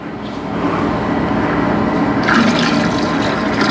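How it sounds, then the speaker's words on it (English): Plain tap water pours into a wine kit fermenter with a steady, close rushing and splashing that grows louder and brighter partway through. "eventually we want to fill up to here with just regular water"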